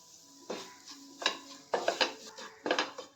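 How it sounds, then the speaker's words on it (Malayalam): Soya chunks being stirred in a pan for a soya chunks fry: a spoon scrapes and clinks against the pan in several distinct bursts, with a faint sizzle underneath and no talk. "എന്നിട്ട് വീണ്ടും ഇളക്കി ഇതിന്റെ പച്ചമണം മാറ്റുക."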